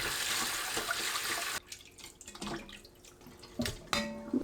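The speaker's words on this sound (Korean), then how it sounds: "자숙 우렁이를 물에 헹굽니다." Cooked river snails are rinsed under running water in a kitchen sink, a steady tap rush that cuts off, followed by quieter drips, splashes and a few light clinks of a bowl.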